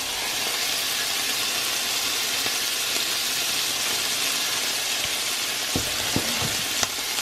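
Cauliflower stir-frying in oil gives a continuous, dense sizzle at close range, with a few brief scraping stirs near the end and no talking.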